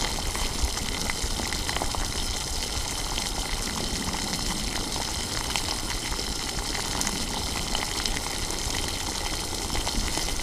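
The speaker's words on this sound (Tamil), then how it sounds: "மட்டன் வேக வச்ச தண்ணியை வந்து ஃபுல்லாக ஆட் பண்ணியாச்சு." Mutton cooking water added to a masala for Madurai mutton chukka, bubbling and boiling in a pan; a continuous, dense simmering hiss and gurgle at moderate level, steady throughout with no talking.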